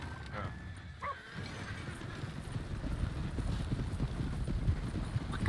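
Hooves of a horse-drawn wagon clatter in a steady, dense patter on the road in Red Dead Redemption 2, with a brief whinny early on and a continuous rolling rumble underneath.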